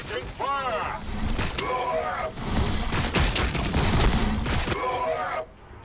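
Gunfire in Warhammer 40,000: Battlesector with Genestealer broods, dense crackling volleys and booms running throughout, loud and close, with voices shouting over the shooting.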